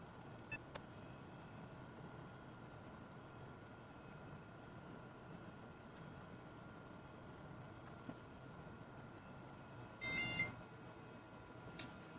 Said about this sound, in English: Gave me some little beeps.